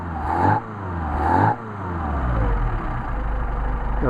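A Mercedes 190SL engine on Solex carburetors blips sharply twice, rising to loud revs about a second apart. It then drops back to a steady, throbbing idle, heard close with no voices.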